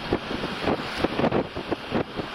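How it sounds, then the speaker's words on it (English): Strong wind buffets a boat crossing Jekyll Sound, gusting in uneven rumbling bursts against the microphone over a continuous blustery roar, close and fairly loud. "The wind is just getting stronger and stronger and stronger."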